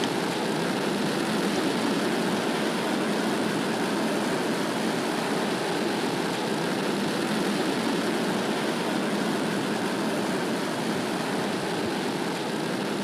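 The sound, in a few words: Relativity rocket engines at liftoff from Cape Canaveral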